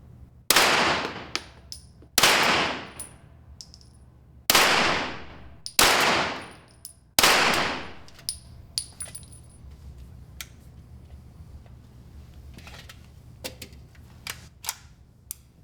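Pistol caliber carbine fired in five loud, sharp shots at intervals of about one and a half seconds, each shot ringing out and decaying. Faint clicks and handling sounds follow.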